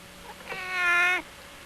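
A cat gives a single drawn-out meow, close and clear, rising then falling, with quiet background before and after.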